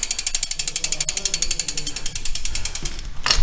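A ratchet tightens a bolt on a road bike's SRAM brake, giving a fast, even run of sharp metallic clicks that ends with a louder final click.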